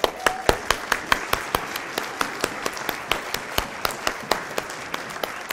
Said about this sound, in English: let's give mothers a round of applause